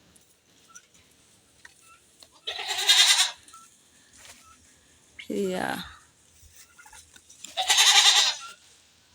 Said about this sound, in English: the goat and the cow, they are crying. They want water